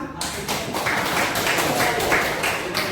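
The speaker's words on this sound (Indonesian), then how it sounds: "Kita tepuk tangan." Middle school students in a ninth-grade classroom clap their hands together, a fairly loud, steady patter of many claps with a faint voice underneath.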